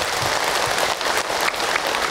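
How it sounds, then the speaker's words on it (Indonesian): Sustained applause from an audience at an Islamic talk show on family and children, a dense, even wash of clapping filling the whole moment. "tepuk tangan dulu buat Abi"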